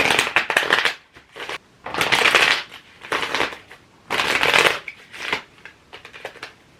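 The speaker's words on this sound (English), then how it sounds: "Okay, one more shuffle." Tarot cards shuffled in several bursts, crisp riffling and flicking sounds close by, separated by short pauses.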